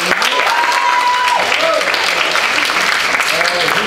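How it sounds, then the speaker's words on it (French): A crowd applauds a presidential primary candidate at a French political event, loud continuous clapping throughout with a voice speaking over it at the start. "On peut l'applaudir"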